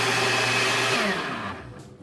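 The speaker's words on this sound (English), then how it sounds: "We are going to blend all those chunks into a nice, smooth, creamy curry sauce." An electric blender whirs loudly as it purees chunks into a smooth curry sauce, a steady motor drone that winds down and fades near the end.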